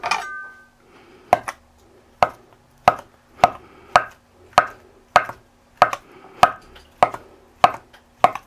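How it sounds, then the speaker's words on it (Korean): A kitchen knife cuts ham for budae jjigae on a cutting board, making about fourteen crisp, evenly spaced chops at a steady rhythm, close and clear with no talking. "그리고 햄도 먹기 좋게 썰어 줄게요"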